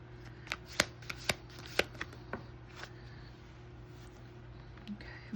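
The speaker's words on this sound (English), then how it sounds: "Shuffle them up a little bit here." A deck of tarot cards is shuffled by hand at close range, giving a series of soft, irregular riffles and snaps over a steady low hum.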